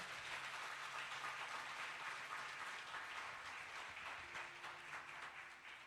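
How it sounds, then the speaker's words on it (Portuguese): A church congregation keeps up sustained, even applause, a thick wash of many hands clapping that runs unbroken and fades slightly toward the end. "Pode ser mais forte para ele esse aplauso."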